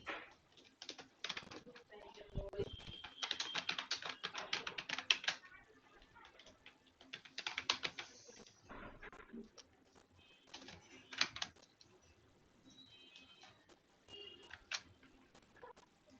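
Typing on a computer keyboard while entering a title in a graphics design program: a close, steady patter of key clicks in bursts with short pauses, with faint background sounds.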